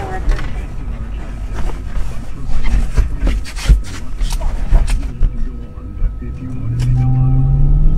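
Stolen police patrol car being driven away, with thumps and shuffling of someone climbing in, then an engine revving up into a rising drone toward the end.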